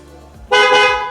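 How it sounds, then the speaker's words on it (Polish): A loud, sustained car horn from a 2024 MINI Countryman JCW, triggered from a phone app, blares suddenly after a brief quiet moment, holding steady for about half a second with strong harmonic tone. "jeżeli uruchomię sobie klakson"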